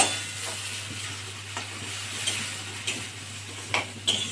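Prawns being stirred gently in a kadai, with soft scraping and light clinks of the utensil over a faint sizzle and a steady low hum, close and quiet, with no speech.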